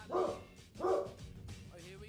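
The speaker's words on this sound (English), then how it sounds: "Someone is knocking on my door, and my dog is losing his mind" A dog indoors barks at a knock on the door, two loud, close bark bursts about two-thirds of a second apart, followed by quieter noise.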